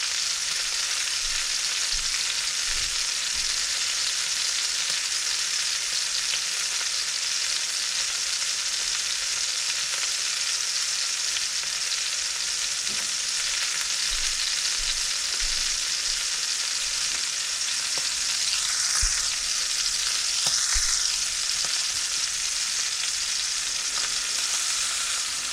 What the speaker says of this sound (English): When we're searing, we don't want to move it around too much.